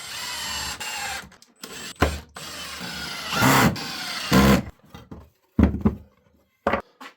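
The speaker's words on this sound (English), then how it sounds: "I can put the screws into the pocket holes and get this all clamped up" Screws are driven into pocket holes while a wooden planter side is clamped up, with bursts of power-driver whine separated by pauses, clunks and handling knocks, close and fairly loud.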